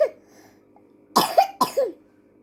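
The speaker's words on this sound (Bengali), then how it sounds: "আচ্ছা, তোমার কাশি?" A child coughs up close: one short cough, a pause, then two quick pairs of hoarse coughs in a row, clear against a quiet room.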